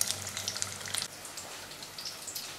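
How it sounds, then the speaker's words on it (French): A samosa wrapped in brick pastry frying briefly in hot oil, a steady bright crackle and sizzle close up, with no voices. "Voilà, donc juste un bref passage vraiment dans l'huile."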